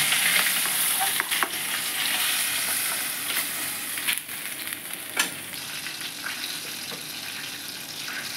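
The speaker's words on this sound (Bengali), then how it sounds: "মাছগুলো ভাজা হয়ে গেল, এবার সব তুলে নিচ্ছি আস্তে আস্তে।" Hilsa fish frying in oil, a continuous crackling sizzle with occasional sharper pops and light stirring clatter, close and steady.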